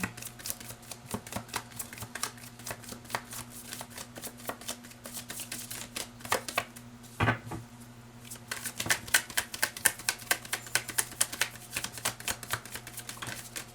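Tarot cards handled and drawn from a deck, a run of crisp papery flicks and slaps close up, with a low steady hum underneath and a louder burst of shuffling near the end.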